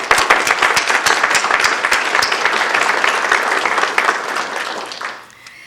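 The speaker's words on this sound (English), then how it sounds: "Let's salute to President Carter with our warm applause again." Warm audience applause for President Carter at a forum on U.S.-China relations, a full room of hands clapping steadily at close range, then fading away at the end, with no speech over it.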